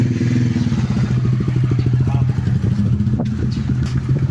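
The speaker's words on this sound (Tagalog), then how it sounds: "Ang daming mga motor dito." Motorcycles rumble close by in a steady, throbbing engine drone with a sharp clatter near the end, heard beneath a busy street background.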